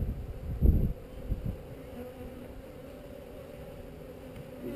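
Honeybees buzz around an opened hive during a queen release, a low steady drone with a brief louder burst near the start as the hive is handled.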